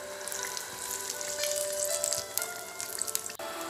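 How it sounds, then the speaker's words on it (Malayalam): Egg bhaji sizzles steadily in hot oil as its second side fries after being flipped, a dense, continuous crackle heard close up with no voices. "മറുപുറം കൂടെ നന്നായിട്ട് ഫ്രൈ ചെയ്ത് എടുക്കാം."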